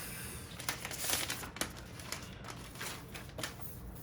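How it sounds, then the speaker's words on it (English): Plastic wrap peeled off a new Apple M1 MacBook Pro, heard as faint, close crinkling and scattered light crackles that come and go over a few seconds. "It's wrapped in this plastic. Let's take it off."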